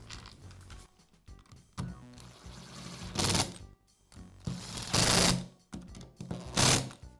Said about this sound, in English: I'll secure it with the screws.